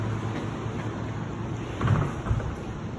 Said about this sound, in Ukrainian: тут отакий двовентиляторний повітряохолоджувач невеликий